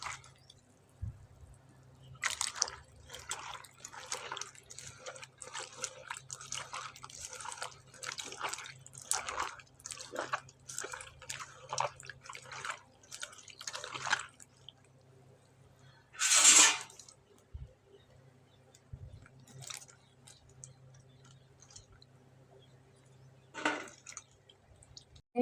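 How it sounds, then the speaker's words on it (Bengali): Cut eggplant and potatoes are squished and rubbed by hand in a bowl of clean water, giving soft, intermittent wet squelches and drips that come close and fairly quiet, with no talking. "আমি বেগুন, আলু পরিষ্কার জলে ধুয়ে নিছি।"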